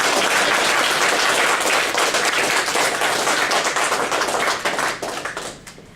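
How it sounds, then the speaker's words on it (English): An indoor audience at a Toastmasters installation ceremony claps in a dense, sustained round of applause that thins into scattered claps and fades out near the end. "give a round of applause"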